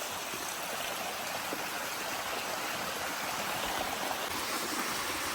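A small seasonal waterfall in Tujunga, California pours in a steady, close, full rush of water that never lets up, with no voices.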